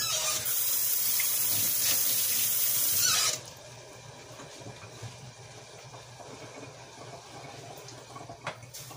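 Tap water runs steadily into a kitchen sink to rinse a pot lid while corn cooks on the stove, a broad hiss that cuts off sharply after about three seconds, leaving quieter kitchen background.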